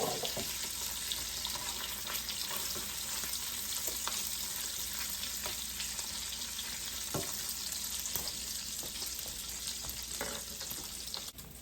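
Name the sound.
bacon frying in a pan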